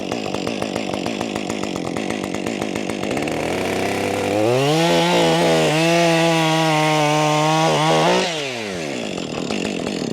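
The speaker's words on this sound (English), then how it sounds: "I'm going to start up my chainsaw and cut a 10-inch section of this off" A chainsaw idles with a rapid putter, then revs to a loud, steady whine as it bites into a firewood log held on a Wolfe Ridge log stand, before dropping back to idle.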